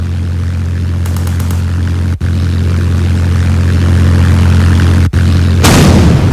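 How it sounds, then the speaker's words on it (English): A steady loud rumble with two brief dropouts, then a sudden burst of broadband noise near the end, like an explosion going off in a Roblox game. "And there is our explosion."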